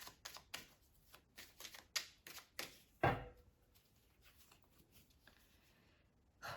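Tarot cards being shuffled in a series of quick papery riffles and taps, with a sharper slap partway through, close and fairly quiet with no talking.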